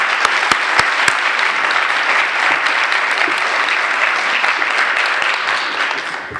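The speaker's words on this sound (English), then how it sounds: "Let's please give them a round of applause for helping us." A symposium audience applauds sponsors in a steady burst of clapping, with a few sharp claps standing out near the start, continuing evenly before tapering off at the end.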